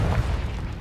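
The Confringo blasting curse in Hogwarts Legacy lands as a short, deep boom with a rolling low rumble, close and loud.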